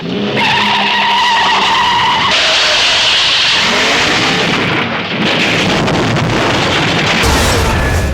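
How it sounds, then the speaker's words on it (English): Loud roaring engines and long screeching tire skids fill the entire stretch, with a heavy thud near the end, like a frantic car chase from a James Bond film. "James Bond car chases have come a long way."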